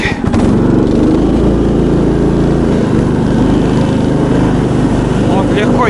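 An Albatros-XLV9 motorized snow tug drives through deep taiga snow, its small engine droning loud and steady at close range throughout.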